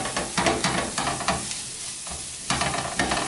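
Flour toasting in a pan for a crab chowder (chupe de jaibas), stirred steadily: a soft continuous sizzle with rhythmic scraping strokes about every half second, pausing briefly midway before resuming, close and with no voices.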